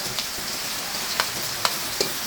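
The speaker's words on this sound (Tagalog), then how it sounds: "Gisa na natin yung ating bawang" Garlic sautéing in a pan over charcoal, a soft steady sizzle with a few light scrapes of stirring, no voices.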